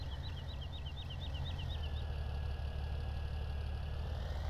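Massey Ferguson tractor engine idling in Farming Simulator 17, a steady low rumble that holds evenly throughout with no talk, under a faint repeating high chirp.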